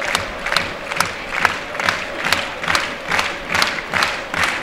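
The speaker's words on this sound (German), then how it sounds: "Das Publikum heizt den Freistoß nochmal ein durch das Klatschen" Rhythmic clapping from a football stadium crowd at a SC Preußen Münster home match, building anticipation before a free kick; steady, even claps roughly twice per second with a broad crowd wash, sounding distant and spread out.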